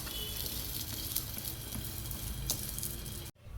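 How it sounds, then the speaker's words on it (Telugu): Steady hiss and crackle of dibba rotti, a thick jaggery-coconut batter cake, frying in oil in a covered pan after flipping, close and continuous before cutting off abruptly near the end. "ఇప్పుడు దీన్ని మనం ఒకవైపు కాలింది కొంచెం ఆయిల్ వేసుకుని వేరే వైపుకి తిప్పుకుందాం."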